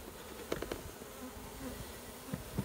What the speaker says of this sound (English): And then we'll just take a few bees here for our pooled sample.